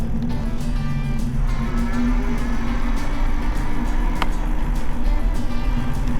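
An AIPAS C1 Max Xpress ST 1100W e-bike cruises in first gear at about 9 mph, giving a steady, loud rumble of motor and wind that runs without a break.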